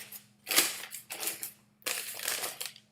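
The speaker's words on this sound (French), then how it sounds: "Si je prends ce papier et que je le froisse" A sheet of paper is crumpled by hand close up, giving two bursts of crackling and crinkling separated by a brief pause, over a faint low hum in a quiet room.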